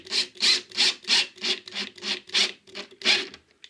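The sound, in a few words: tightening screw into Fischer wall plug in plasterboard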